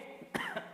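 A couple of short, soft coughs from a man with a recurring cough, close by, a quick burst followed by another brief one.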